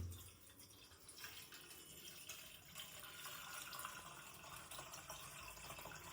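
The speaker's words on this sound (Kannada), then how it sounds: "ಬೆಲ್ಲದ ನೀರನ್ನ ಹಿಂಗ ಸೋಸ್ಕೋಬೇಕು." Jaggery water trickles through a strainer in a home kitchen, a soft continuous pour with faint dripping and splashing, quiet and close, no voices.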